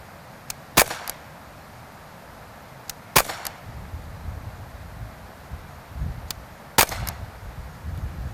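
An air pistol fires on a target range in several sharp, crisp cracks spread apart, with faint clicks and a quiet outdoor background between the shots.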